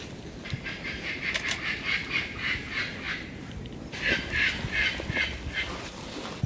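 Kākā parrots call from the trees at night in the New Zealand wild, a series of repeated harsh, nasal squawks in two bursts over a steady, faint background hiss.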